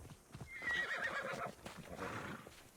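A horse in Assassin's Creed Odyssey gives a clear, fairly close whinny with hoof clip-clops mixed in, heard alone without talk.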